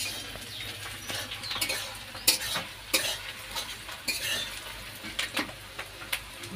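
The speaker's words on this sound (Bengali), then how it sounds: "পেঁয়াজ ভাজা হয়ে গেছে" Sliced onions fry in oil in a home kitchen pan while a utensil stirs and scrapes them, giving a steady sizzle broken by irregular close clinks and scrapes, with no talk.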